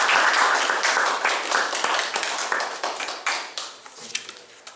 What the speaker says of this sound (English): So if everyone would perhaps join in another round of applause for Dr.